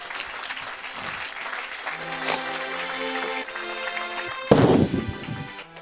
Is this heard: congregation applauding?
yes